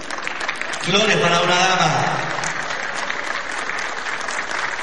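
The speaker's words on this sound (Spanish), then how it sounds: "Un aplauso fuerte a nuestra campeona de Chile" A crowd breaks into applause for Chile's reigning cueca champion at a senior citizens' regional cueca awards ceremony in Machalí, the clapping swelling after a second and holding steady while a voice talks over it.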